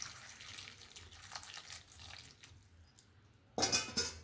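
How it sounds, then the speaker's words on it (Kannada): Water runs into a small vessel of fresh raw peanuts to wash them, a soft trickle and splash at close range that swells into a louder gush near the end. "ಇದಕ್ಕೆ ನಾನು ನೀರು ಹಾಕ್ಕೊಳ್ತೀನಿ."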